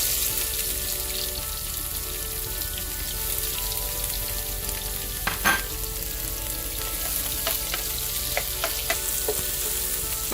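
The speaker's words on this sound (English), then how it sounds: "So once that's done, we're going to start sauteing our onions." Sliced onions saute in hot oil and ghee with a dense, constant sizzle that sounds like rain. A few sharp clatters of a stirring spoon stand out near the middle and later in the clip.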